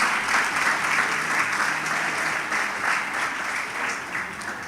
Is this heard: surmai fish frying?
no